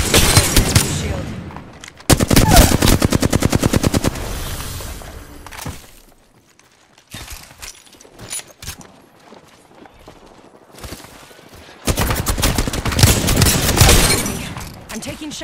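Gunfire striking the player in the Apex Legends video game, rapid automatic bursts and shield cracks coming in loud spells separated by quieter gaps, with a voice speaking in places.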